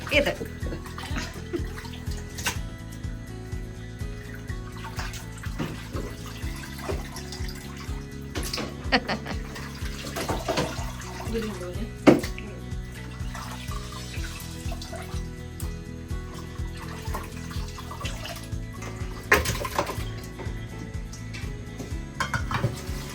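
Meat is washed under running water in a sink for a meat cutlet dish, with steady splashing, handling noise and occasional clinks of dishes, while a person talks throughout.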